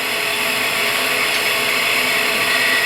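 A skew chisel chatters against wood spinning on a lathe, a steady close-up grinding, choppy cutting noise that runs unbroken and loud for about three seconds with no talk.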